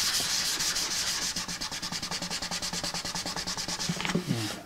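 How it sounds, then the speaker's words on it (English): Sandpaper rubbed steadily across the wood of a Martin 00 style acoustic guitar, a close, continuous run of quick rasping back-and-forth strokes with no talking. "I'm going to flip to fresh sandpaper and really zero in on that line area that's bugging me"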